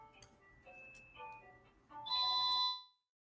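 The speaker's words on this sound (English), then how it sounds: "This was my phone with us making this noise" A mobile phone sounding a ringing alert: soft electronic chime tones that build into a loud, steady high beeping tone, then cut off abruptly into silence.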